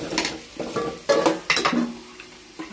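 Chopped onion with half a spoon of chili powder in a pan, stirred with a spoon that scrapes and clinks against the metal in several short bursts over a faint sizzle.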